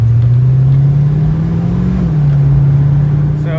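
A car engine hums steadily while the car is driven, a low continuous drone with a slight swell in pitch midway, close and loud, with no talking.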